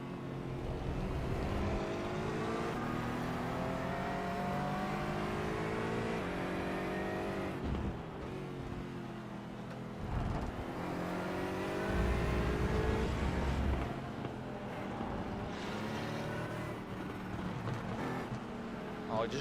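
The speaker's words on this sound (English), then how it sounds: "Oh, I just love the pure sound of the Aston Martin." Aston Martin race car in a sim racing league round at Rudskogen, Norway, its engine droning steadily with gear-change dips and revving climbs, loud and close from an onboard view, with commentators talking over it.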